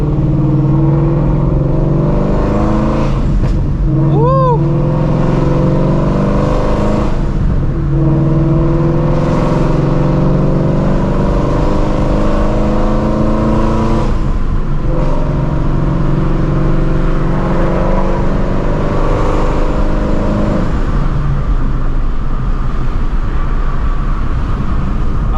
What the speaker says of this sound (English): gonna do a second gear hit as well as a third gear hit, just to see the difference with boost.